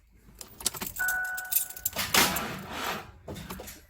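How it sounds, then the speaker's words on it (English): A car's starter, powered by a GOOLOO GE1200 1200A portable jump starter, gives a weak click and a brief, sluggish turn-over attempt, heard close amid some rattling of keys. "A little bit of click and a little bit of turn."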